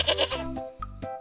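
Goats bleat in a cartoon comedy scene, a short run of nasal, wavering cries, loud and close, with a brief higher call near the end.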